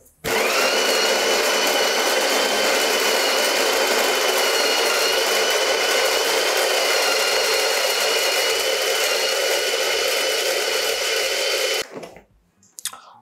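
A De'Longhi La Specialista espresso machine runs for about twelve seconds with a loud, steady, whining pump hum, then cuts off abruptly and leaves near silence.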